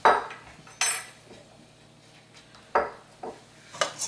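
Worcestershire sauce, lemon juice and Tabasco are whisked in a bowl for deviled crab, heard as a few sharp clinking strikes of a whisk against the bowl between quieter scraping, close and with no talk.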